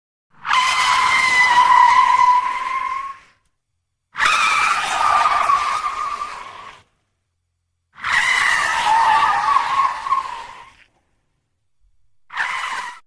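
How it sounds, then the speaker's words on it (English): An SUV's tires skidding and squealing in four long, loud screeches separated by short silences, the last one cut off, sharp and close with no voices. "in a split second, the SUV suddenly accelerated."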